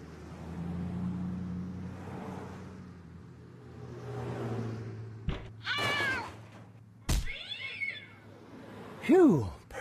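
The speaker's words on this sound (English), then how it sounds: "I got rid of that stinking cat" A cat meows in the point-and-click adventure game Randal's Monday, with several short, rising and falling cries near the end, loud and close, after a stretch of background music and ambience.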